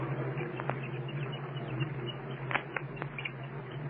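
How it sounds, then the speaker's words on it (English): A chick inside its egg shell, caught on a 1937 broadcast recording: faint scattered chirps and a few soft thumps and taps over a steady low hum and hiss, close and quiet. "You can hear them chirping anyway inside of the egg."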